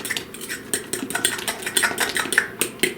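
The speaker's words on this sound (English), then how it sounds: "So let me mix this up a little bit more." Banana soufflé batter being mixed in a bowl, a utensil scraping and clinking against the sides in quick irregular strokes, close and fairly loud with no talking.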